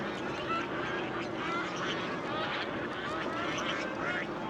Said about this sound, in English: Oh, a lot of ducks on our right here.